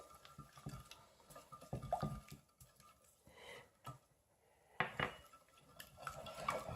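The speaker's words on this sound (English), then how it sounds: "Just give it a good old whisk." A whisk beating egg and sugar batter for Indian spiced French toast in a bowl, giving rapid clinking and scraping strokes in uneven bursts, close and moderately loud, with no talking.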